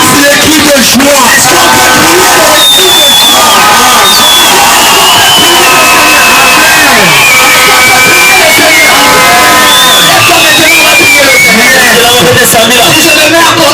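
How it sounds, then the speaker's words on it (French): A church congregation at a revival campaign erupts in loud, sustained shouting, whooping and cheering for joy, a dense roaring crowd din with voices rising and overlapping throughout. "C'est les cris de joie."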